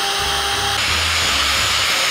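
A power drill runs continuously and loudly, its high whine shifting pitch partway through as it works, with no talking over it.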